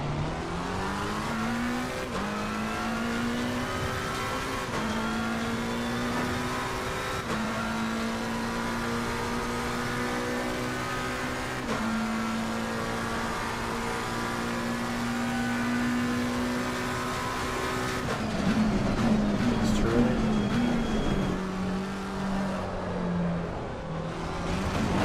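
An Assetto Corsa Competizione race car engine drones loudly and continuously in VR, its pitch climbing and dropping through repeated gear shifts, with rougher, jittery revving near the end.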